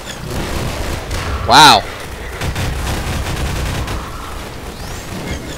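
Combine energy ball firing in Half-Life 2 co-op, one loud sharp blast with a warbling whine at about a second and a half, amid ongoing gunfire and game noise, a voice exclaiming briefly.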